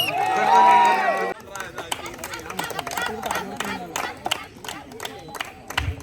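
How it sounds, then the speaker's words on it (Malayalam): A crowd at a village Onam celebration claps in scattered, uneven bursts with background chatter, following a short sustained tonal sound at the start. "നല്ലൊരു കൈയടി കൊടുക്കാം"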